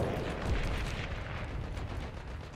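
Battlefield gunfire in the World War II game Hearts and Generals, a dense rumble of distant shots and booms overlapping in a continuous low barrage, fairly faint overall.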